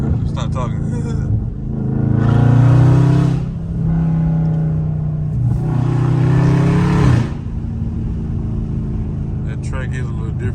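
A catless Dodge Scat Pack in track mode accelerating hard: two loud, rising exhaust surges with a roaring, raspy note, separated by a brief dip, then settling into a lower steady rumble.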